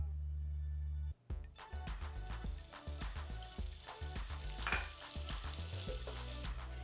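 About a tablespoon of oil and two tablespoons of butter heat in a pan over medium-high heat, crackling and sizzling loudly after an abrupt start, with uneven spitting pops over a steady fry hiss and background music.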